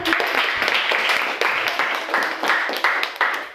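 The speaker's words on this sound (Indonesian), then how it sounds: "boleh tepuk tangan" Steady applause from a group, a dense wash of clapping with small surges, continuous throughout and fairly loud.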